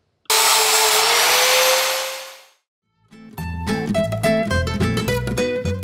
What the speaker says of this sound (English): And I grind something.